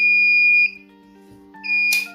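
Alarm buzzer on an electrical control panel signalling exhaust fan failure: a steady loud electronic tone that cuts out, then resumes briefly before a short burst of noise, heard alone.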